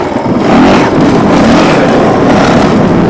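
Honda CRF450L motorcycle engine under way on a trail, a loud, close rumbling drone with shifting pitch as the rider works the throttle, with wind noise and no speech.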